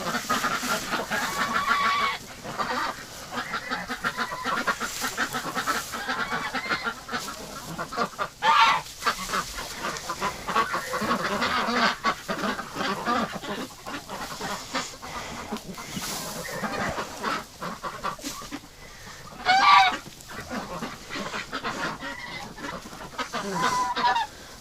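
Wintering ducks and geese in a straw-bedded pen honk and quack continuously, a dense, close flock chorus with a few louder honking bursts standing out above the rest.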